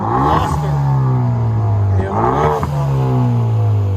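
A 2017 Hyundai Veloster Turbo with an aftermarket exhaust and Vibrant bottle resonator revs up close, its droning engine note rising and falling in a few repeated pulls.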